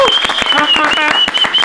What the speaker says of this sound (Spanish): Un aplauso para Julián